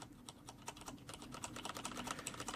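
Steady typing on a Roccat Ryos MK mechanical keyboard with stiff Cherry MX Black switches, a dense run of close, crisp key clacks at an even pace with no talking.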